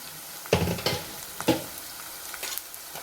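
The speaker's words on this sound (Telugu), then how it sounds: "ఆనియన్స్ పచ్చిమిర్చి అయితే మంచిగా వేగిపోయాయి" Chopped onions and green chillies frying in a pan for a Telugu beans and tomato curry: soft, steady sizzling with a few sharper clicks and stirring scrapes, close and moderately quiet.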